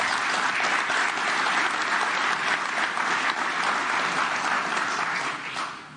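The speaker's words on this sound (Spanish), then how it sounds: "Un aplauso para ustedes," An audience claps at a Spanish-language public address, a dense, sustained burst of applause that stays loud and even before tapering off at the end.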